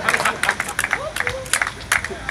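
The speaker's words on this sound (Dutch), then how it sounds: "een applaus voor Wernhard Bruining, dames en heren" A crowd at a cannabis acceptance rally on Amsterdam's Nieuwmarkt claps for a speaker, scattered bursts of outdoor applause in uneven clusters with some crowd chatter mixed in.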